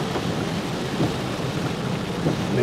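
Continuous rainfall pours over a flooded area by the Pea River in Elba, a dense broadband wash with faint rumbling swells underneath and no talking.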